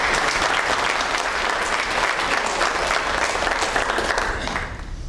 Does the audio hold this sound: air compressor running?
no